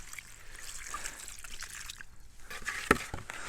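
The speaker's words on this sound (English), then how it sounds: "all I'm going to do is just cover that with water" Water trickles and splashes as it is poured over bread in a bowl to cover it completely, a quiet close stream with a sharper splash near the end.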